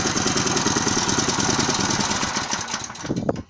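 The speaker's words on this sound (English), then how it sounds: "I will increase the speed of the machine now to produce its optimal power." A homemade engine-driven welding generator built around a car alternator runs loud and close with a steady, rough mechanical drone. It cuts off abruptly just before the end, and nobody talks over it.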